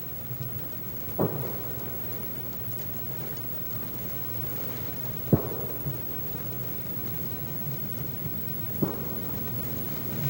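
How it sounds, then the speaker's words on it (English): Steady, dense rainfall hisses throughout, with a few brief low thumps rising above it at intervals. "The way the rain was coming down"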